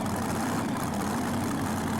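Mekko pulling tractor engine running at the 2015 European Tractor Pulling Championship in Brande, Denmark, a steady, loud, dense low roar that holds without break.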